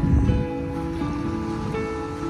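Sea waves wash onto the sand along Manila Bay on an overcast day. A steady, fairly loud surf wash runs throughout, with tonal background music beneath it.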